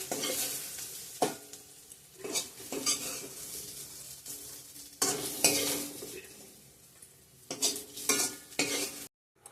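Boiled elephant foot yam frying in a pan, stirred with a metal utensil: a steady sizzle broken by repeated loud scraping strokes and clanks against the pan, close by.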